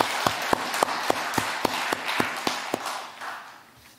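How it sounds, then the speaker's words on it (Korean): Church congregation giving glory applause during a Sunday service, with slow, sharp, evenly spaced claps ringing out in unison about twice a second before fading into room reverberation. "다시 한번 우리 하나님께 영광의 박수 돌리겠습니다."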